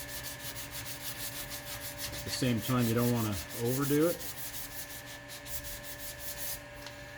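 Block sanding on the body of a 1968 Firebird makes a close, steady rasping rub in repeated strokes, with someone talking over it partway through.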